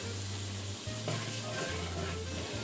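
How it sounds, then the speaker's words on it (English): Garlic and flour sizzle steadily in hot oil while being stirred, a close continuous frying hiss with a low pulsing hum underneath and no voices. "While stirring, I'm adding in about 2 tablespoons of flour"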